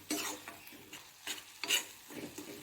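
Taro dish for Assamese kosu pitika being stirred in a pan, with repeated scraping strokes and a soft sizzle, close and moderately quiet.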